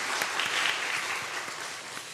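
A church congregation claps steadily in warm, sustained applause during a worship service, moderately loud, with no voices over it.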